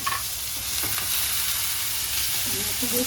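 Tomatoes and vegetables sizzle steadily in a hot pan while a spoon scrapes and stirs through them, close and continuous, with a brief voice near the end.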